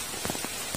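Rain falls in a remote Javanese village, a constant hiss of drops on surfaces with a few heavier patters standing out, steady and close.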